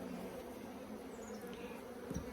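Honey bees buzzing around an open, crowded hive of combined deep boxes, a faint, steady drone of many insects with a few louder passes close by.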